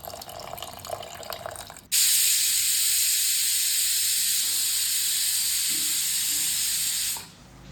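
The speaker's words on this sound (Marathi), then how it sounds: "कुकरच्या 2 शिट्ट्या घ्यायच्यात आपल्याला" A pressure cooker holding soaked whole masoor lentils and half a cup of water lets out a loud, sustained hissing steam whistle. It lasts about five seconds after a quieter stretch, then drops away.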